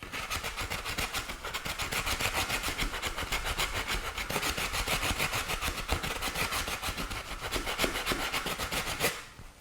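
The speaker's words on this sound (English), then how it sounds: "First, we need to scratch this area up because we're going to be bondoing the legs in place." Coarse abrasive scratching across a shiny foam surface to rough it up before applying Bondo, in a fast steady rhythm of back-and-forth strokes, close and loud throughout, ending abruptly near the finish.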